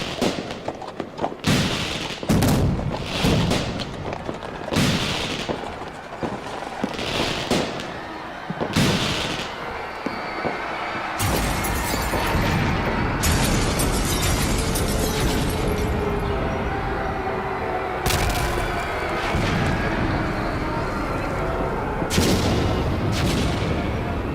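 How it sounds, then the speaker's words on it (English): Repeated booming bursts of fireworks crack and thump at irregular intervals, then settle into a dense, continuous crackling barrage, in an audio drama. "These are just fireworks."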